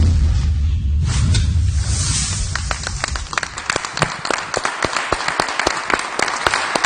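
Supporters applaud and cheer for two candidates at a televised political debate, a dense wash of crowd noise that thins into scattered, sharp individual claps toward the end.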